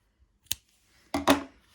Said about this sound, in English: now I'm going to cut my yarn